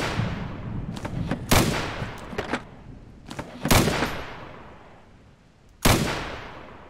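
Sharp, booming gunshots in the video game ZERO Sievert ring out as several separated loud reports with reverberant tails, some in quick clusters and others spaced seconds apart.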